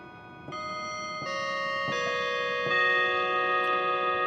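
Synthesizer imitating a tambour clock chime: a sequence of bell-like tones struck one after another about every 0.7 seconds, each ringing on and layering over the last, clear and close with no talking.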